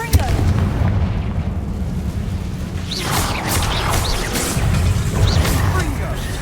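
Booming blasts of the Confringo explosion spell in Hogwarts Legacy, loud and repeated over a dense, rumbling game soundscape with continuous low-end energy and a few brighter bursts.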